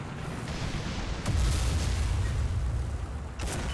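Tank cannon fire in the War Thunder video game: a heavy booming shot with a rumbling tail over constant engine and battlefield noise, then a second report near the end.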